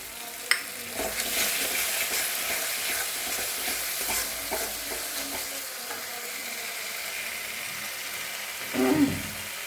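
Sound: cumin, ginger and chili frying in a pan

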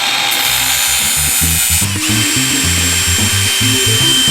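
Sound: cutting old aluminium screen door frame with angle grinder

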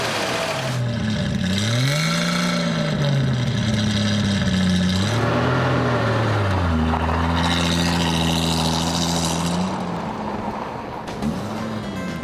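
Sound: Ford Mustang 2.8-liter inline six-cylinder engine revving

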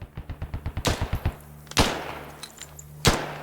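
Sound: gunfire in video game Squad

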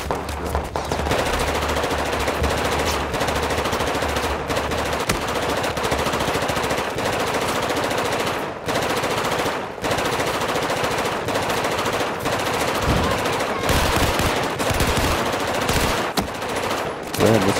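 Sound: gunfire in video game Battlefield 4

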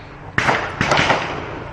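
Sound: gunshots at a shooting range

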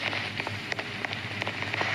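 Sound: rain in Roblox Brookhaven, video game

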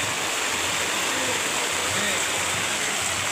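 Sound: rain falling

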